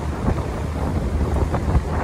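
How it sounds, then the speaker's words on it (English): Strong wind buffets the microphone aboard a small fishing boat in Botany Bay, a steady low roar with gusty swells and engine or water rumble underneath, no voices. "Damn windy all of a sudden."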